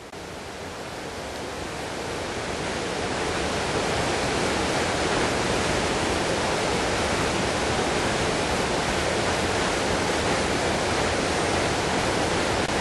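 A river rushes right below a slippery rocky outcrop in the Cumbrian countryside, a loud, steady broadband roar of flowing water swelling in the first seconds and then holding constant, with no voices.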